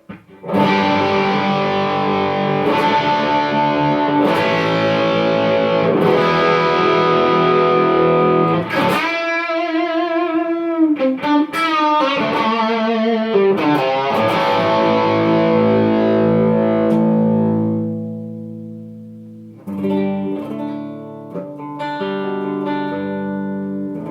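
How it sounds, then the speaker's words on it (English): Distorted electric guitar chords ring out through a BluGuitar Amp1, strummed one after another with sustained tones and a brief quieter passage near the end. "I'm going to start with the Amp1. Just play some basic chords, give you some tones"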